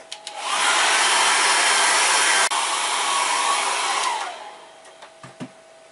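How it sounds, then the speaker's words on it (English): A hair dryer drying acrylic paint blows with a steady loud rushing roar for several seconds, then cuts off, leaving a few faint knocks. "And then I'm going to dry that with the hairdryer."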